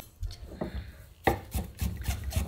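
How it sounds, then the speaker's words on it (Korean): A knife chops blanched shepherd's purse (naengi) on a board in quick, uneven thuds that come close and clear and speed up toward the end. "잘게 썰어주세요."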